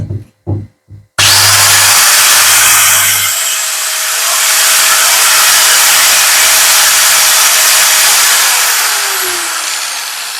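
A Bosch GWS700 angle grinder starts after a couple of brief clicks and spins up to a loud, steady high whine, running without load close to the microphone for several seconds.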